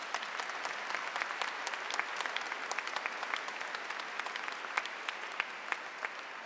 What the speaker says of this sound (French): Nous applaudissons.